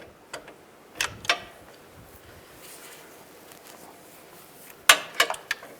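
A ratcheting socket wrench with a 15mm socket works on the engine mount bolts of a 2010-2017 Chevrolet Equinox, giving short bursts of quick clicks at the start and end with quiet shop sound between.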